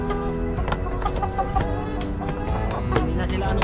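Restless chickens cluck repeatedly close by on a farm, sharp irregular calls overlapping against a busy background with some faint human voice.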